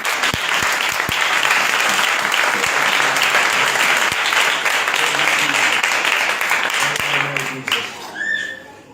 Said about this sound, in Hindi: और आई उस लहू के लिए हम जोरदार ताली दें।